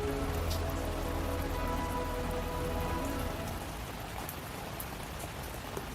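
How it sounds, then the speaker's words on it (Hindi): Heavy rain pours steadily outside an old, long-abandoned haveli, a dense continuous hiss of drops on surfaces that holds at an even loudness throughout with no voices. "बारिश भी तेज थी"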